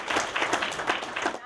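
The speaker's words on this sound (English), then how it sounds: "Applause from county commissioners met Perdue's announcement" A short burst of applause from county commissioners at a government meeting, fairly close and steady, with a voice speaking over it.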